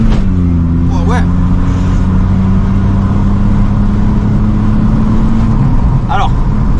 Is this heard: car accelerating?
yes